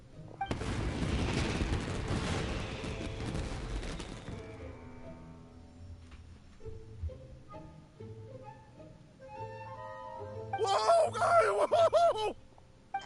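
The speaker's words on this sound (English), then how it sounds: "Yoimiya, this is turning into a bit of a fireworks display" Fireworks explode in the video game Genshin Impact: a loud booming burst of crackling blasts fading into a decaying rumble, with a shorter bright crackle later.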